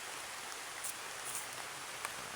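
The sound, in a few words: heavy rain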